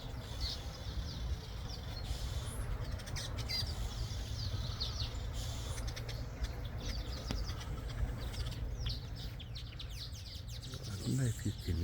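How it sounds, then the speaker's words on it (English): Quiet garden ambience with scattered bird chirps and tweets throughout and a faint low hum of bees, while a person talks softly in the background. "I don't know if you can hear all the bees and the birds."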